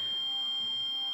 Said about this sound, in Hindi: ये देखें ये बीप दे रही है।